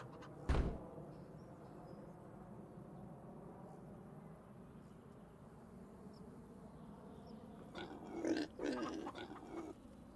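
Pigs in a barn in Farming Simulator 25: a sharp sound near the start, then a low steady murmur, and a short cluster of grunting and squealing near the end.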